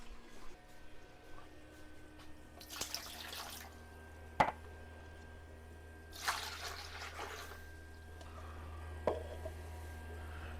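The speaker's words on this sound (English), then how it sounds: "And now the pump has got water. Water squirting in there." A countertop ice maker's pump squirts and trickles water into its reservoir in two longer splashing bursts with scattered drips, all faint over a low steady machine hum, with no one talking.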